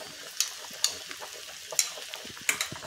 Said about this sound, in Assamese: উতলিছে যিহেতু, সিজিবলৈ আৰম্ভ কৰি গৈছে